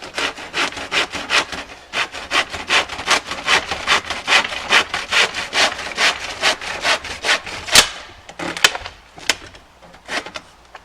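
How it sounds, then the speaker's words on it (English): Steady back-and-forth hand sawing through wood, rapid rhythmic rasping strokes close up, slowing and breaking into a few final cuts near the end. "you've got to actually saw it properly"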